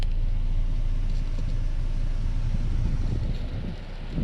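Air conditioner blower inside a 2005 Toyota Fortuner G petrol automatic, running on low speed: a steady, broadband airy rush with low rumble, continuous and fairly close, no talking.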